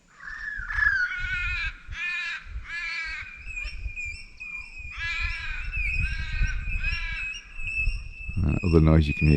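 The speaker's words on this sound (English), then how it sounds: "Other noise you can hear is a crow." Repeated harsh raven caws in bursts, fairly close, with other birds chirping faintly behind and some low background rumble and movement.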